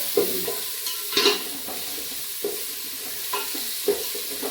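Chopped onion stirred and fried in a hot, slightly smoking pan for chicken dum biryani, a steady sizzle broken by a few sharp scraping strokes of the spoon, close and moderately loud with no talking.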